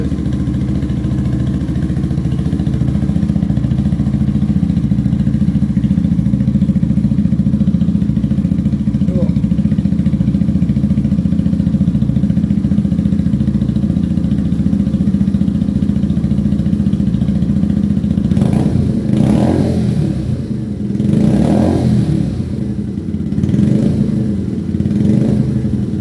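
Lexmoto Tempest motorcycle engine idling steadily and loudly up close, then revved in a few short blips near the end, heard indoors out of the rain.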